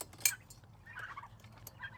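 Turkeys gobble nearby in a short burst of bubbling calls, with a sharp clatter near the start and faint background noise.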